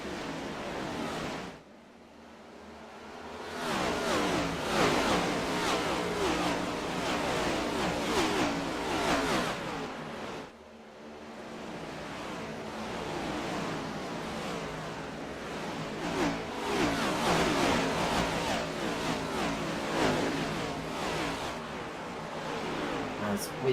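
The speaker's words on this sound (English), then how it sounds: "let's listen to these cars roar around the track here at Dover" Race cars roaring around the Dover track in an ANZCAR Cup race, a loud whooshing engine wash that swells past repeatedly, twice dropping away briefly, with talk audible underneath.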